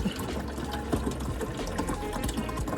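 Spring water pours steadily into a container for coffee preparation, a continuous close-up gurgling stream with no talking.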